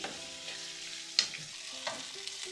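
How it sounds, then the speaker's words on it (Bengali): Tripe (bhuri) frying in a pan hisses softly and continuously, with a few light clicks of a utensil and faint tonal hum behind, and no one talking. "আর এখানে এই যে ভুড়ি ভাজি করতেছি"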